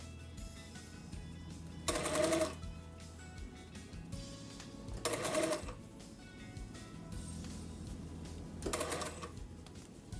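A flat sewing machine stitches a coat sleeve, running in three short loud bursts separated by quieter pauses.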